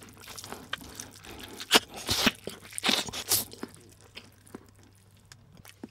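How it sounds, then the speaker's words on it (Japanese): Melon being eaten for a recorded sound effect gives wet, crunchy bites and chewing, close and fairly quiet, with several sharp crunches in the middle and softer juicy smacking around them. "メロン食べてる音。"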